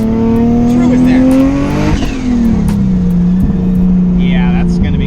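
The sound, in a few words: big turbo R33 Skyline engine revving loudly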